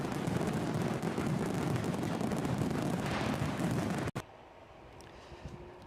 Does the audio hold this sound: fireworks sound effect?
yes